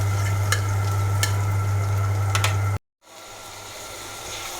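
Garlic cloves frying in a pan for chicken curry give a steady, close sizzle with a low hum underneath, cut off abruptly partway through before a quieter frying hiss resumes.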